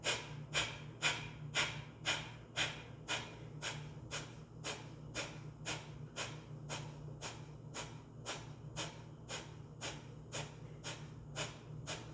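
Rapid pumping breaths in a calming breathing exercise, forceful nasal puffs repeating in a steady rhythm about twice per second, close and fairly soft.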